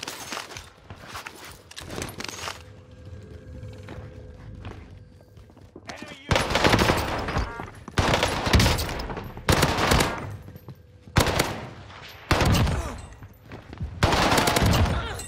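Owen gun fire in Rebirth Island, a Call of Duty battle royale, with loud rapid bursts from about six seconds on, repeated several times, alongside footsteps and voices talking.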